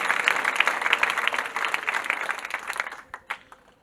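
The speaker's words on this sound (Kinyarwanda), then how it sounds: "Tuyikomere amashyi tuyishimire" A church congregation at a Pentecost service bursts into dense, loud applause that carries on, then thins into a few scattered claps before fading out.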